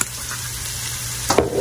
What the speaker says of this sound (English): you're gonna let this saute